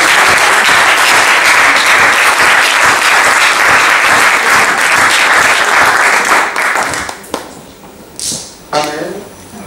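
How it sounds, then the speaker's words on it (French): A church congregation applauds loudly in sustained, dense clapping for several seconds, then the applause breaks off into scattered claps and a few short bursts of voices. "Est-ce qu'on peut acclamer très fort pour la vie?"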